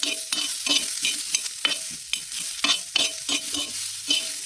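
Ginger pieces and onion stir-fried on a flat pan until golden, with steady sizzling and repeated spatula scrapes in a rhythmic pattern, close and fairly loud, no voices.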